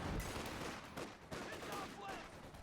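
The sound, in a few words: machine gun fire in video game Company of Heroes 2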